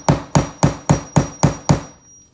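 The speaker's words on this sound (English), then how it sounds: "I just pinch a little bit the anchor. When this is the type of anchor that you're using, I just pinch a little bit here," Seven sharp, evenly spaced hammer strikes driving a pinched plastic wall anchor into a wall during a range hood installation in a mobile home, loud and close, with no talking, then quiet.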